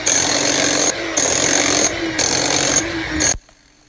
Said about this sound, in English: the last step is to cut and strip the pebble around the crack so it can be patched